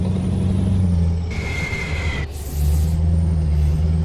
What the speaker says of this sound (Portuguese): Deu a frear no caminhão aqui